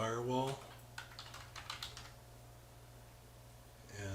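A computer keyboard clatters in a short burst of fast keystrokes right after a voice trails off, then the room settles into quiet hum.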